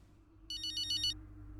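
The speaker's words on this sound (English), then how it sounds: "I'm getting a phone call." A phone ringtone in the F1 racing game Braking Point, a short, bright trilling electronic ring of repeated beeps over a low steady hum, heard alone.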